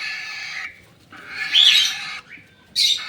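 Cockatiels at a breeding setup give bursts of harsh squawks and chirps, loud and close, separated by short quiet gaps with a faint background hum.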